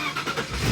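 An abandoned BMW, DF-swapped, with its engine turning over and catching, a short mid-pitched rumble that swells toward the end, close by with no talking.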